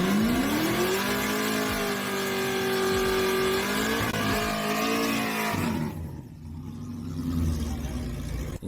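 Race cars at Miles of Mayhem drag racing at S.I.R. in Saskatchewan, a loud engine revving and holding a high droning pitch before the sound drops away and a second roar builds.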